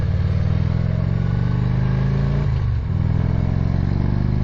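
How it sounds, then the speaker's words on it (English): A motorcycle engine revs hard and continuously while the bike is ridden through a series of corners, with a steady loud drone and one brief dip as the throttle changes. "See if you guys can hear the engine here for a second"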